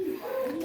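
A pigeon coos in breeding cages, one soft, low, drawn-out call that sits close and clear through the whole brief moment.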